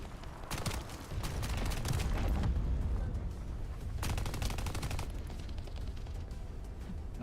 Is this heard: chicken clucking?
no